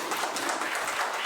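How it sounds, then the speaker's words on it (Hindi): An audience at a Rotary Club teachers' awards ceremony gives a brief, even burst of crowd clapping, dense and moderately loud, with no voices over it. "आप प्लीज अपने लिए एक बार तालियां बजा दें"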